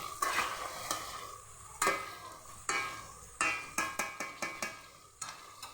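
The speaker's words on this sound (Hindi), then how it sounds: "अब इसमें मैं ये डालने लगी हूँ टमाटर। थोड़े से टमाटर भी सोते करूँगी इसको" Tomatoes being sautéed in a pan for potato korma, with a steady sizzle broken by repeated sharp scrapes and clinks of a spoon stirring against the pan, close and fairly quiet, with no talking.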